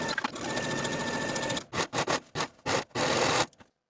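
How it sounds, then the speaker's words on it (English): A sewing machine stitches the side seams of a shirred fabric blouse, whirring steadily and up close for over a second before breaking into several short stop-start bursts, then falling quiet. "Sew both side seams with a 5/8 inch seam allowance and serge your seams to finish."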